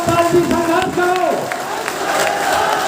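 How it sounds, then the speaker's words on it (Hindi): A political rally crowd claps and cheers in a dense, steady wash of applause while an amplified speaker chants over it through a PA. "बाबूराम पाल के लिए जोरदार तालियां बजाइए आप लोग"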